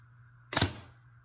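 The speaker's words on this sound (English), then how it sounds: "I'll fire the shutter here in a half a second." A Pentax 6x7 medium-format camera fires its shutter once, a single sharp, fairly loud mechanical clack with a brief rattling decay, alone against a faint background hum.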